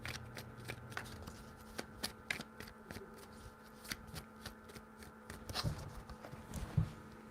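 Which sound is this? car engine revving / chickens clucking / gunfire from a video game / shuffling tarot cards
shuffling tarot cards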